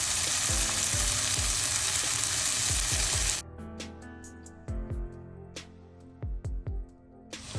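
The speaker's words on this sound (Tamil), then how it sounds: "வெங்காயம் தக்காளி சிக்கன் மிளகாய் வதங்கி கொண்டு வர நான் கொஞ்சம் தேங்காய் சேர்க்குறேன்" Onion, tomato, chicken and chili sauté in a hot pan with a loud, dense sizzle and scraping stirs for about three seconds, then the sizzle drops away to quieter intermittent clatter and stirring.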